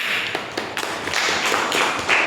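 Classroom applause for a sixth-grade pupil in an Islamic jurisprudence lesson on buying and selling, a brief burst of children's uneven clapping with distinct sharp slaps standing out, fairly close and loud.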